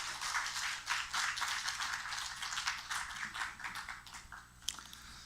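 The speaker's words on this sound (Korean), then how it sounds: "우리 한번 박수로 한번 우리 강사님 모시도록 하겠습니다." Church congregation applauding to welcome a guest speaker at a Sunday morning service, steady dense clapping filling the room for several seconds.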